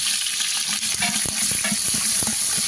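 Onions tossed into a hot pan fry with a close crackling sizzle, broken by clattering knocks and scrapes as they are stirred, with no talking.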